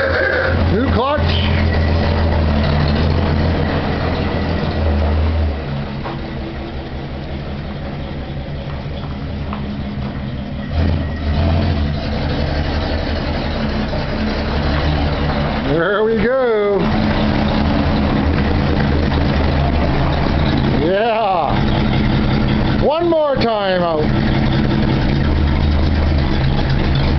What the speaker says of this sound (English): This is a test run, second test run. The Willys is running.